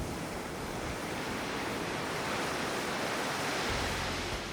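Huge ocean waves at Mavericks crash into a loud, continuous roar of surf and spray that fills the whole stretch without a break.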